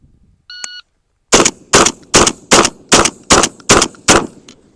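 A Benelli M4 shotgun fires reduced recoil slugs after a shot timer's beep, eight loud, close blasts in a quick, even rhythm.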